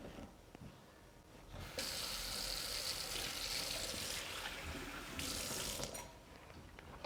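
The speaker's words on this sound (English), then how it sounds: "I'm going to add 1 warm cup of water to the floury mixture." Warm water runs in a steady stream from a tap or jug into a bowl of floury mixture, a continuous splashing pour that swells loud for several seconds before easing off near the end.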